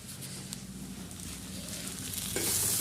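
Tadka tempering spices sizzling in hot oil in a pan, a steady soft hiss and crackle close by that grows slightly louder toward the end, with faint voices.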